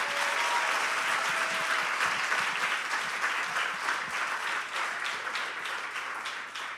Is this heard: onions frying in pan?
no